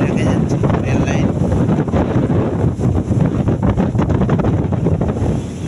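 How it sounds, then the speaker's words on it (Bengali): Strong wind roars and buffets the microphone on a cloudy day in open country, mixed with the rumbling drone of a motor van, loud and continuous throughout. "মোটর ভ্যানের আওয়াজ আর বাতাসের শাঁসা শব্দ মিলেমিশে একাকার হয়ে যায়"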